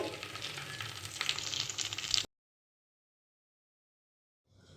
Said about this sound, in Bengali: তো এরকম আঁচ কমিয়ে আস্তে আস্তে ভাজতে হবে ভেতর থেকে চিকেনটা ভালো করে সেদ্ধ হয়ে যায়